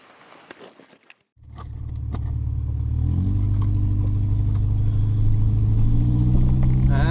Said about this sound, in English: That tailpipe is making a lot of noise.